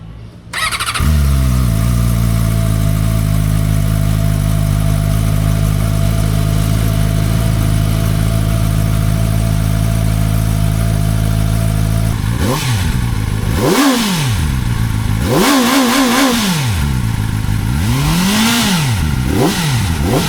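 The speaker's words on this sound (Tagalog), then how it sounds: "So mag cold startup tayo ngayon para kay Boss Roman." A Kove 450RR Pro 2024 motorcycle engine cold-starts and settles into a loud, steady idle, then revs up and down several times near the end.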